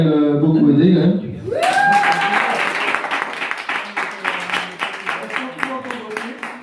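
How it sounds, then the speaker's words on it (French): An audience at a festival breaks into applause after a voice speaks over a microphone, the clapping rising quickly, then continuing loud and steady before thinning into scattered claps. "Je voudrais quand même qu'on applaudisse Justine qui m'a quand même beaucoup aidé"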